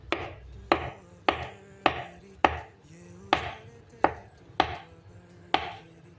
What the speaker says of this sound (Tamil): அதுக்கு வந்து நம்ம பனானா கட் பண்ணிக்கலாங்க.